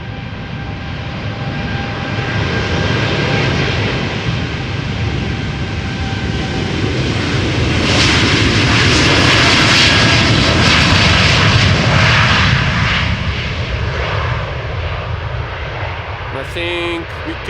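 A jet airliner departs the Polderbaan runway at Amsterdam Schiphol, its broad engine roar building to a peak near mid-clip and holding loud, steady and fairly close throughout, with a voice speaking over it.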